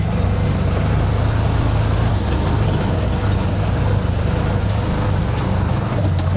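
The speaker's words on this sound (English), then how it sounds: "I'm going to throw it back in low gear here just because it's easier." A car driving in low gear over a rocky forest road: a constant loud engine drone with rough, rumbling road noise and buffeting, steady throughout with no pauses.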